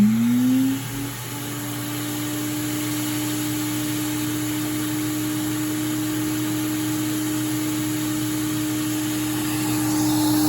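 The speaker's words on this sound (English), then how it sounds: "we're going to use our vacuum to vacuum it off." A vacuum draws cleaning fluid off a vinyl record, a steady droning whir with a rising pitch at the start, then an even, continuous hum with no voices.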